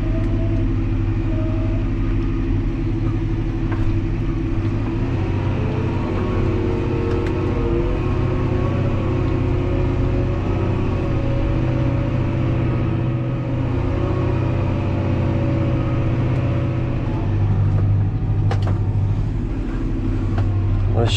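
A Fendt 314 tractor engine drones steadily while plowing a field, a loud continuous low rumble with slight load variations and occasional clanks, someone speaking faintly over it.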